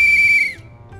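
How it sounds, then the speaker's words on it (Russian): A single steady, shrill whistle is blown in the video game Leisure Suit Larry: Wet Dreams Don't Dry. It lasts about half a second, then slides down and cuts off, loud and close. "Значит, сюда надо было свистнуть."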